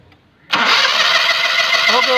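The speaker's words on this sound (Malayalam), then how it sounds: "ഒന്നുകൂടെ ക്രാങ്ക് ചെയ്തേ." A Maruti 800 with a broken timing belt cranks over, starting abruptly after a brief quiet moment. The starter whirs loudly and steadily, close by, with a rhythmic grinding turnover but no catch.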